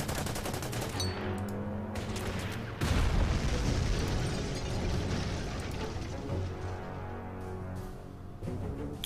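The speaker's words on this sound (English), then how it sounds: "First I'm gonna take a shot at the AT gun." Anti-tank gun fire in the WWII strategy game Order of Battle, with a T-26 tank nearby: heavy, sustained booming and crackling volleys with a sharp louder burst partway through, dense and continuous with no talk.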